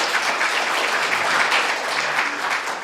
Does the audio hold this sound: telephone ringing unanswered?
no